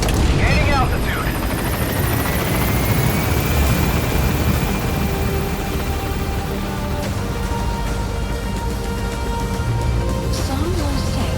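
A helicopter in the game Metal Gear Solid V: The Phantom Pain takes off with a loud, steady rotor roar and engine drone throughout, with a brief voice and faint sweeping game effects.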